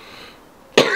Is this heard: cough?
yes